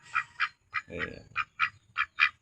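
Peking ducks quack in a steady series of about eight close, loud calls at a regular rhythm, with a brief burst of rustling or flapping noise partway through.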